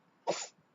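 A single sharp sneeze, sudden and close, a short bright burst that fades within a quarter second against a quiet background during a bodybuilding contest.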